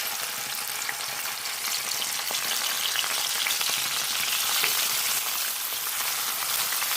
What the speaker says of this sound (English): So while this is frying, I have here some chopped garlic, tomatoes and onions